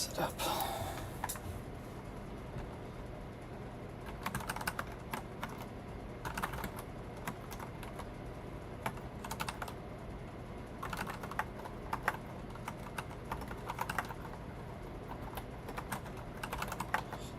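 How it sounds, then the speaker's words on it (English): Fast, steady clatter of keys on a computer keyboard, close and continuous with brief pauses, over a constant hum of room noise; a person speaks over the typing. "It's been a while since I've typed on this keyboard."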